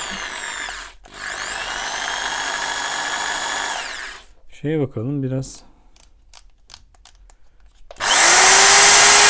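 A Hyundai 710 hammer drill whines loudly at steady speed, stops, then revs in short bursts and spins up again, with a brief spoken line in between.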